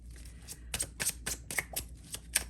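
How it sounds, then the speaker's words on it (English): Tarot cards are shuffled quietly up close, a quick run of crisp riffling flicks in a fast, uneven rhythm. "Quick little shuffle again."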